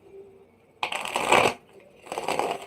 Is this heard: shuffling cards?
yes